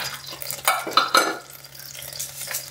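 Ghee heating in a hot pressure cooker for a beetroot curry tempering gives a steady close sizzle, with a few louder crackling bursts near the middle and no talking.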